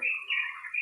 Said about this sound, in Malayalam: കിളികളുടെ ചിലക്കൽ അല്ലെങ്കിൽ കിളികളുടെ ഒച്ചയൊക്കെ കേൾക്കും